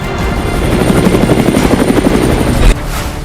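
Loud, continuous rotor chop and turbine drone come from a Mi-17 V5 helicopter in flight, holding steady for nearly three seconds before cutting off abruptly.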